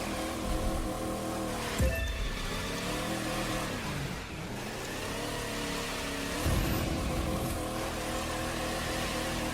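A Dodge Charger driving in The Crew 2, its engine droning steadily with pitch swells as it revs and shifts, close and continuous, with a couple of brief impact thumps along the way.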